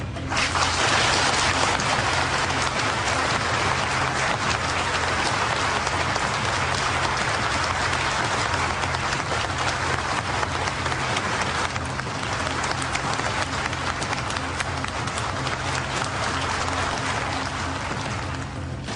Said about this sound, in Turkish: askerler, hakim ve savcılar briefingin ardından birbirlerini dakikalarca alkışlıyor